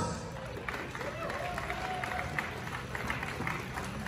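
Crowd applause at an Oktoberfest event in Clark, Philippines, a busy mix of clapping and cheering crowd noise running steadily under a loud announcer's voice over a PA.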